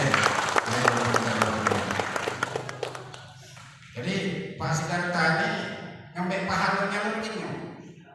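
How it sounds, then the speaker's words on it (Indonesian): An audience at a government gathering in Garut applauds civil servants with a burst of clapping that fades after a few seconds, then a voice speaks over a PA. "kasih aplaus dulu untuk kawan-kawan ASN"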